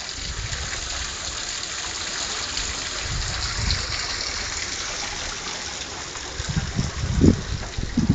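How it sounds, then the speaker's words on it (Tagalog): A man-made waterfall at a farm resort pours in a steady, close rush of falling water that fills the whole clip, with a few low thumps of splashing toward the end. "And here's a man-made waterfall."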